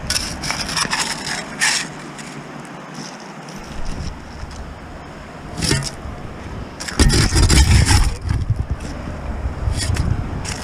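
A shovel digs into cold ground during metal detecting, producing repeated scraping and crunching bursts of soil and stones with rustling in between.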